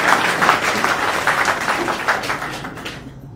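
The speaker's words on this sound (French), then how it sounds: "Je voudrais que vous vous applaudissiez." An audience in a bookstore hall applauds during a book signing, a thick, close wash of clapping that slowly thins and fades away toward the end.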